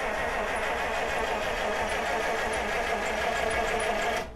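The engine of a 1948 Buick Roadmaster Woodie estate wagon, low on fuel, cranks steadily for several seconds in a fast even churning rhythm, loud and close, then cuts off abruptly without catching.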